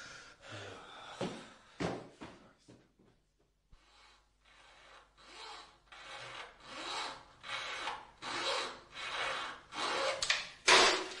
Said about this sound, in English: Slip down to Dale Street and get me a junior hacksaw